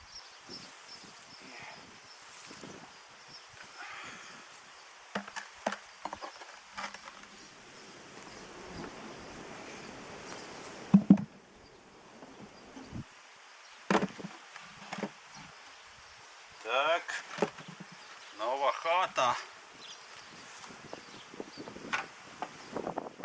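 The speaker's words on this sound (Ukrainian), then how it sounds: "Тут вже бджіл дуже-дуже багато." Honeybees at an apiary hive during queen introduction, a steady low buzzing throughout with rustling and handling noises, brief clicks and short bursts of activity close by.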